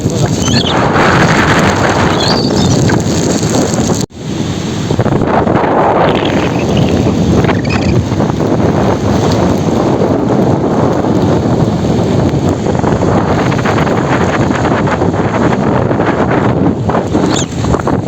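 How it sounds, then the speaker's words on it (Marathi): Strong stormy monsoon wind at a seashore in Guhagar buffets the microphone with loud, continuous roaring gusts, broken only by a brief dropout near the start. "गोवागरला समुद्रावर येताना पहिलं जो वातावरण आहे ते बघून या, कारण बघा पूर्ण वादळ वारा वगैरे आहे."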